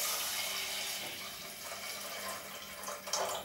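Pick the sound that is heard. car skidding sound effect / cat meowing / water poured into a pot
water poured into a pot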